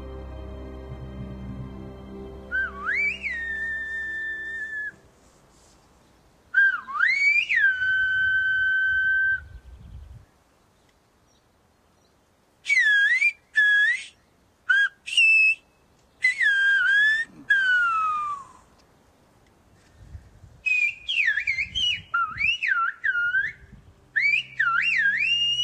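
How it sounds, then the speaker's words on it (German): Silbo, the whistled language of La Gomera, rings out as clear, sliding whistles that rise and fall, delivered in a series of phrases separated by pauses, loud and alone. "Der Silbo, die Pfeifsprache der Guanchen, hat auf La Gomera wohl deshalb so lange überdauert"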